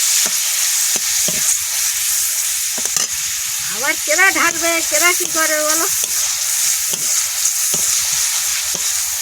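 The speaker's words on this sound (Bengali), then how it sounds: "তেলটা গরম হয়ে গেছে, টমেটোগুলো সাইডে দেবো, একটু ভেজে নেবো।" Tomatoes fry in hot oil in a pan with a close, continuous crackling sizzle and a few stirring knocks, while a voice speaks briefly partway through.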